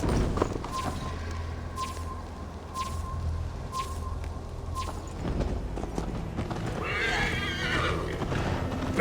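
Rhythmic hoofbeats of a galloping horse in Assassin's Creed Valhalla thud steadily under a whinny and snorts, with a sustained tone and brief bursts of rushing noise near the end.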